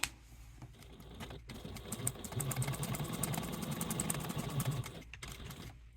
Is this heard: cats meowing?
no